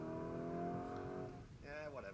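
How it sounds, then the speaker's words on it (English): Noisy internal combustion engine car revving with a strong harmonic whine that fades, then a second rising rev near the end; moderately loud and steady, with no talk over it. "noisy internal combustion engine."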